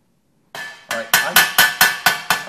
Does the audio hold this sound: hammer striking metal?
yes